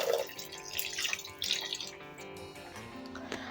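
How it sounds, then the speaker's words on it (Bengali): About a cup of water is poured into a pot of cooking lentil dal, a close splashing, gurgling pour that tapers off over a few seconds. "এবার আমি ডালটা আর একটু পাতলা করার জন্য অ্যাড করে দিচ্ছি 1 কাপ জল"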